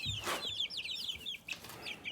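Young chicks in a backyard peep and cluck in quick, high chirps that run continuously through the short stretch, close by and fairly soft, with no talking.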